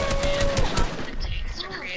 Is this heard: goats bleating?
no